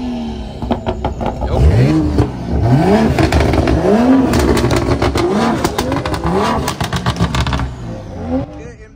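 Cars rolling into an outdoor car meet, engines revving and rising in pitch in repeated pulls as vehicles pass close by, loud and continuous with crowd noise.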